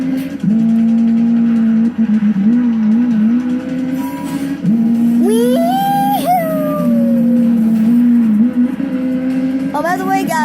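A Ferrari 458 Spider races in the Need for Speed video game, its engine holding a loud steady tone that climbs and drops with gear changes, plus a high rising whine near the end.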